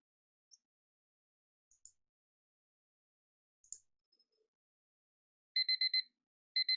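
A digital alarm beeps in two quick bursts of four rapid, evenly spaced electronic tones, thin and moderately loud, after a few scattered faint clicks in an otherwise quiet room.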